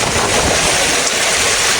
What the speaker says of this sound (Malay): Sunyi, hanya terdengar suara air yang mengalir.